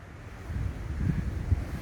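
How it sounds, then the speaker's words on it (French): A gust of outdoor wind buffets the microphone on a film set, a steady low rumble that swells slightly toward the end, with no voices. "On attend le coup de vent."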